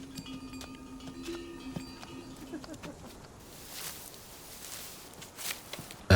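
Footsteps in a rural setting near the Nujiang and Gaoligong mountains: soft, irregular steps, fairly close, with a faint tonal hum early on and no talk.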